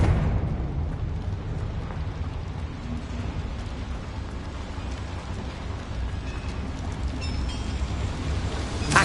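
A Confringo fire spell bursts in Hogwarts Legacy inside a small mine, a dense, roaring blast that keeps rumbling loudly and steadily for several seconds with no voices over it.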